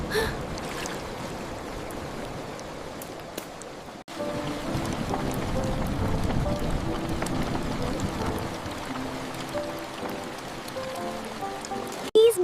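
Steady rain falls and patters on surfaces, a continuous hiss that swells and stays constant for several seconds, with no voices over it.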